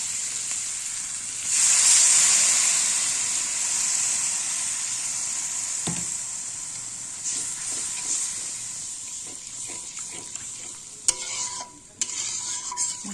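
Water poured into a hot pan of fried spices sets off a loud, steady sizzle and hiss that flares up early and then settles, with clinks and scrapes of stirring near the end.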